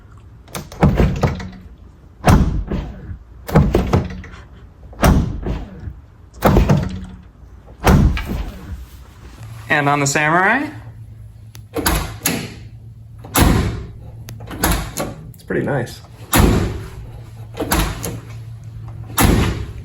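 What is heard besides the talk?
SUV doors opening and closing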